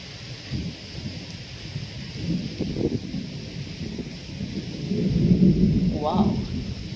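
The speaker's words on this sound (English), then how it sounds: "I'm on my rooftop recording some thunderstorms." A thunderstorm with rain, recorded from a rooftop: steady hiss of rainfall with low rumbling thunder swelling and rolling through, growing louder toward the end.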